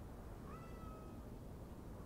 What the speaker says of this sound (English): You probably hear the cat in the background.